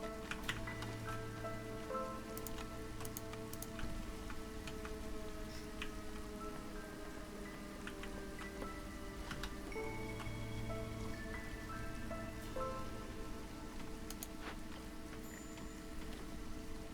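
Steady drizzle of rain in the video game Against the Storm during drizzle season, a soft continuous patter with game music and interface tones layered over it, no talking.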